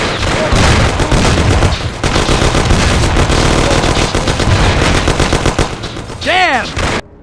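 Loud, rapid bursts of automatic and pistol gunfire in a shootout in the video game Mafia: The City of Lost Heaven, crackling almost nonstop, with a brief shouted voice near the end.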